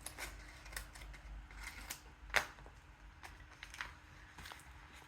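Scissors snip open a Sanrio blind bag with a few sharp, quick cuts, one clearly louder than the rest, over quiet rustling of plastic.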